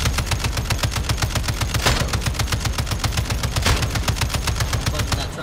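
Sustained rapid automatic fire from a mounted turret in Call of Duty Modern Warfare 2, a steady, loud, evenly spaced stream of shots with barely a pause across the whole stretch.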